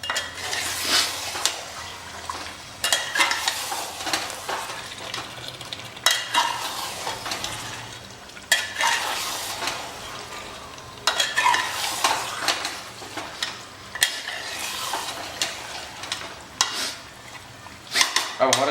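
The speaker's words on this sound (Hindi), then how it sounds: "अब हमारा चिकन जो है पानी छोड़ेगा और इसी पानी में इसको हम भुनेंगे" Chicken sizzles in masala in a pan while a spoon scrapes and stirs against the metal in repeated, uneven strokes, close and continuous over a steady frying hiss.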